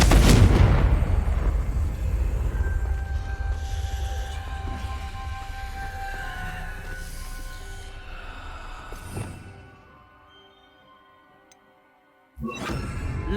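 A Confringo blasting spell goes off in Hogwarts Legacy: a sharp explosive boom opens, ringing magical tones linger, then a duller blast lands near the nine-second mark and another abrupt burst near the end.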